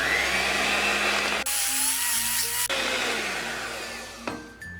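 An electric beater whines as it mixes red velvet cake batter containing vinegar and vanilla essence. Its motor pitch jumps between speed settings, then winds down near the end. No one speaks.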